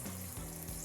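Cooking oil sizzles in a pan while bagara rice is being prepared, giving a short, steady, close frying hiss with soft crackle.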